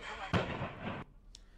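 Gas cylinder explosions tearing apart a tent-house warehouse in Bhopal: one sharp, loud blast with a broad roaring wash lasting about a second that then cuts off, followed by a faint short pop.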